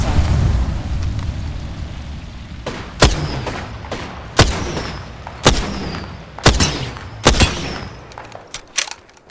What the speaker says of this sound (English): Throwing thermite grenade.